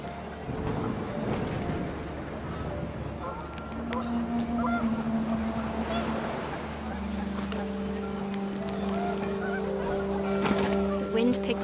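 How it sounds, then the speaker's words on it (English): Panicked geese honking in the video game What Remains of Edith Finch, a string of harsh calls over wind and background noise, with a voice talking over them. "The wind picked up, and panicked geese appeared and quickly went."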